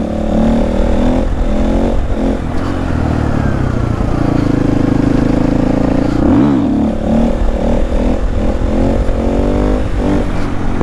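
A motorcycle engine revs and accelerates loudly and close up during wheelie practice with an ABS wheelie bar fitted, pitch rising and falling through repeated throttle blips with no talk over it.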